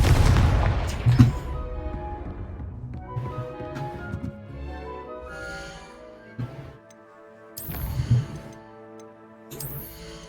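A Confringo fire-blast spell goes off in the Hogwarts Legacy video game: sharp explosive bursts near the start and again toward the end, with ringing tonal game sounds and booms between them.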